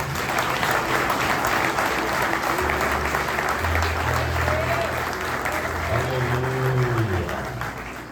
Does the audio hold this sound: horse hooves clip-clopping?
no